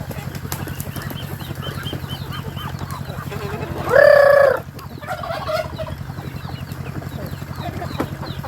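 Muscovy ducks on a farm give a short, loud honking burst at close range during corn feeding at harvest time, over a steady low rumble and soft background noise.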